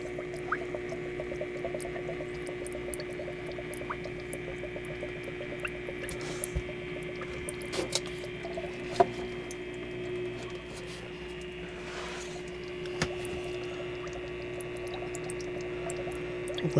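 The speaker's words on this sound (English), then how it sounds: "Purging some air bubbles." A workshop heater runs while air bubbles purge from its fluid lines: a steady mechanical hum with a constant tone, scattered faint drips, gurgles and clicks, and a few sharper ticks.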